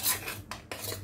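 A spoon scrapes and stirs a thick batter of curd, jaggery, blended banana and dates in a bowl, giving two or three quick close rasping strokes with brief pauses between them.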